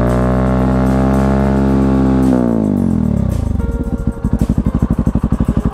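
A Kawasaki-Bajaj Rouser NS160 fuel-injected motorcycle fitted with an Akrapovic exhaust revs hard at full throttle, holding a loud rising howl before dropping off and settling into a rapid, throbbing exhaust pulse, close and alone.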